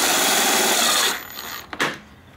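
A power driver whirs steadily for about a second as a screw goes into the plastic of a Ski-Doo seat, then cuts off, followed by a couple of soft clicks and handling knocks close by.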